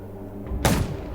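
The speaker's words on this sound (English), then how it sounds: "Gunshots will attract more zombies." A single sharp gunshot bursts out in the zombie survival game Undawn, sudden and loud over a low ambient hum, then trails off quickly, with no voices.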